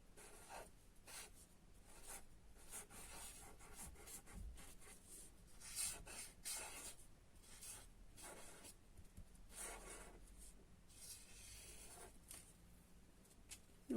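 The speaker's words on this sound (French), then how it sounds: "je vais écrire Joyeux Noël" A pen writes a greeting on a handmade snowman Christmas card, heard as faint, close scratching strokes in short bursts with brief pauses, alone without speech.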